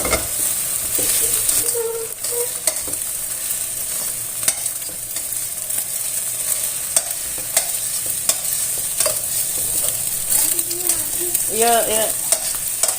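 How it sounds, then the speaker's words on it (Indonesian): Beaten eggs fry in a pan with a steady, close sizzle throughout, joined by occasional scraping stirs and a brief spoken word. "Goreng seperti ini ya, seperti kita mendadar telur."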